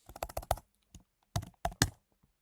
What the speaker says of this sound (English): we're going to type in the customer name